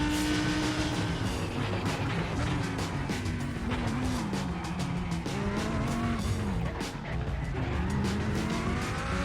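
Race cars roar continuously in the iRacing video game, a BMW among them, engine notes rising and falling with gear changes under brief commentary.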